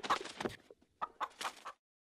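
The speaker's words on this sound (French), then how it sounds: "Des volières sont destinées aux poules et aux faisans de Chine" Hens in a royal menagerie aviary give a few short clucking calls in two close, brief bursts, then fall quiet.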